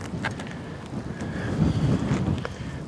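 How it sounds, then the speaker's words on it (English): Strong headwind buffeting the microphone on an open, treeless disc golf course, a steady low roaring rumble with gusty swells throughout, loud and close, no voices. "A lot of wind here."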